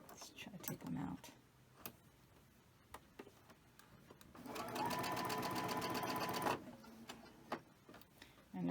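A sewing machine stitches quilt strips in one rapid buzzing burst of about two seconds. Brief talk and scattered handling clicks come before and after it.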